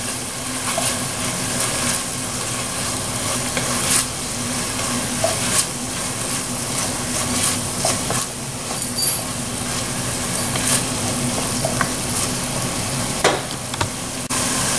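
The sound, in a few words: stirring garlic and parsley into sizzling dirty rice pan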